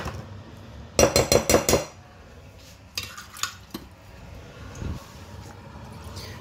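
A spoon clanks rhythmically against a pot while stirring a fish terrine mixture of hake with tomato paste, a quick burst of five metallic knocks followed by a few softer scrapes and taps in a quiet kitchen.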